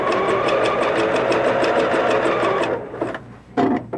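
Sewing machine running a narrow zigzag stitch along a garment seam allowance, a loud steady rapid needle rhythm that stops near the end, followed by a few brief clicks and fabric handling noises.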